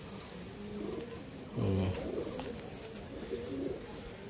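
Several Madrasi long-distance pigeons coo in low, throaty rolls, one louder burst near the middle, close by with a faint murmur of a voice.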